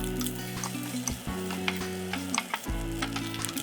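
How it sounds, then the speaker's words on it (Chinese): Dried shrimp sizzle steadily in two tablespoons of hot oil in a wok, with a loud, close frying crackle and occasional scrapes of stirring. "直接把2汤匙的油放在锅里，倒入虾米进去炒到香为止"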